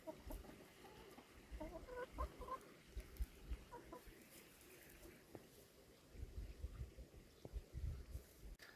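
Chickens clucking in a fenced chicken run in the middle of a homestead field, with several scattered clucks and calls at close to mid distance over a quiet outdoor background.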